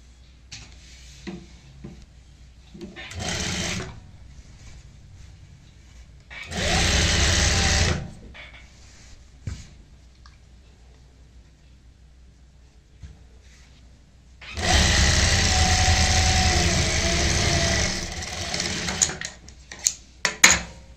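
Sewing machine stitching a salwar seam, two loud sustained runs of motor whir separated by quiet handling sounds and faint clicks.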